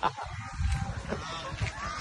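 Geese honk among other farm fowl in Ormoc in the Philippines, a few loud nearby calls over a low chorus of birds.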